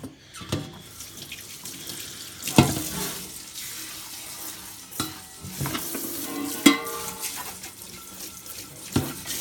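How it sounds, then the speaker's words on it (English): A Berkey water filter element is scrubbed with soap at a sink, giving wet, rubbing swishes and splashes broken by a few sharper knocks and clatters, with no talking. "I'm actually just going to do 2 passes with the soap"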